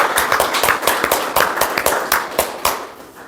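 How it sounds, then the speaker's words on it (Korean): Audience at a Sejong education superintendent candidates' forum claps to welcome the panel chair, a short burst of sharp, uneven hand claps that thins out toward the end. "뜨거운 박수로 한 번 더 환영해 주시기 바랍니다"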